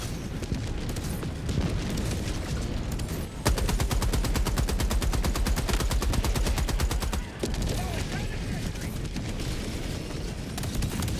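An automated sentry turret in Helldivers 2 fires long, loud bursts of rapid gunfire, with a sharply regular machine-gun rattle in the middle and heavy booms and combat noise throughout.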